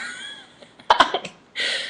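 A narrator reading a dark gothic tale imitates a hacking cough with his voice, a few brief rough bursts between quieter sounds.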